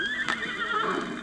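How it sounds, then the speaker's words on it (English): A horse sound effect from a storybook record, loud and close: a single drawn-out whinny across about a second, with a brief stamp-like burst near the start and no voices. "Away went the horse."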